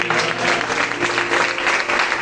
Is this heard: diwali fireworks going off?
no